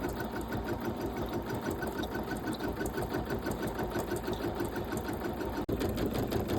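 An embroidery sewing machine stitching a quilted table runner design, its needle chattering in a fast, even mechanical rhythm that runs steadily and close, with one sharp click near the end.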